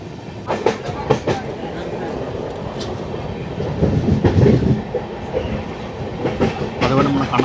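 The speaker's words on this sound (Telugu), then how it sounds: "మన ట్రైన్ అయితే అన్నవరం నుంచి అయితే బయలుదేరిపోయింది" The Ratnachal Superfast Express runs on after leaving Annavaram station, loud close rumble with repeated clickety-clack wheel beats and rattling bursts, uneven in loudness.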